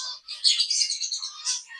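A pair of zebra finches chirping close by, a rapid string of bright, high tweets and calls with a short pause near the start, then a second burst at the end.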